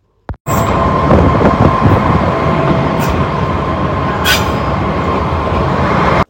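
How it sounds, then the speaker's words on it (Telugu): An old-style train rumbles loudly and steadily close by as it starts off, its heavy clattering roar continuous throughout, near Dalat, Vietnam. "మన ట్రైన్ అయితే స్టార్ట్ అయిపోయింది చూడండి."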